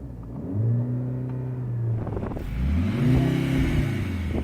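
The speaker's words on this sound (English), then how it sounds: "I'll give it a rev and let you judge for yourself" A Mercedes-Benz C63 revved twice in quick succession, each rise and fall of engine pitch sounding synthetic and boosted through speakers inside and outside the car, fairly close and steady.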